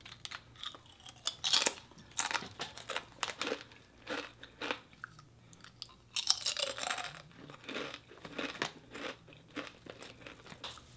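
Crunchy Spicy Doritos chips being bitten and chewed close up: loud, irregular crunches in bursts with quieter chewing between them.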